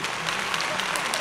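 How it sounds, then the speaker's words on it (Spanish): A television studio audience applauds steadily and loudly throughout, a dense, even wash of clapping with no pauses. "Ya, pero aplausos."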